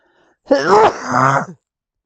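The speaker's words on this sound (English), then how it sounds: "So I'm going to sneeze." A single close sneeze from an adult man, loud and drawn out: a rising breathy intake followed by a voiced, groaning burst, then silence.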